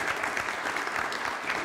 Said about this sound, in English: give a round of applause to the tremendous cast that presented the skit this morning